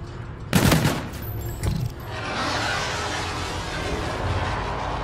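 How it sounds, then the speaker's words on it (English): Gun run air strike in Call of Duty: Infinite Warfare, with two loud bursts of heavy gunfire near the start followed by a sustained roar of impacts and rumble that carries to the end. "Inbound for gun run."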